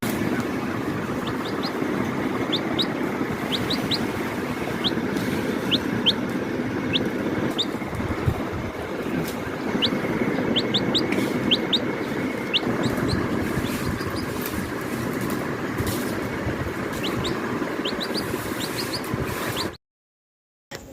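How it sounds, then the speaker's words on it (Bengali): A young chicken chick perched on a person at home peeps in short, thin, high chirps, repeated in scattered bursts over a steady background hum, before the sound cuts to silence near the end. "এই মুরগির বাচ্চাটা হচ্ছে আমার গায়ের উপর উঠেই বসে আছে"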